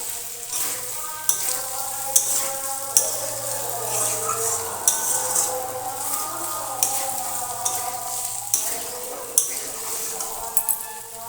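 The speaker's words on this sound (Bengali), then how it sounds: "নেড়ে নেব ভালোভাবে।" Potatoes frying with spices in a pan for aloo dum, steady close sizzle with the scrape and clink of a spatula stirring, some sharp knocks against the pan, no talk.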